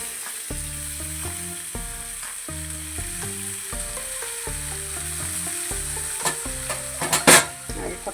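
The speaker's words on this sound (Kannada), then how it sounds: "ಹುರಿದಿಟ್ಟಿರುವಂಥ ಕಡಲೆ ಬೀಜ, ಅವಲಕ್ಕಿ ಎಲ್ಲ ಸೇರಿಸ್ಕೊಂಡು ಮಿಕ್ಸ್ ಮಾಡ್ಕೊಳ್ಳೋಣ" Flattened rice (avalakki) is stirred with roasted peanuts in a pan, giving a soft, steady scraping and faint sizzle that sit beneath rhythmic background music, with a few sharper clinks near the end.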